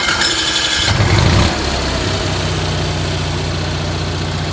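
An Onan 5000 generator on a motorhome runs nearby with a loud, steady mechanical drone and a low hum, after a brief higher rattle at the start.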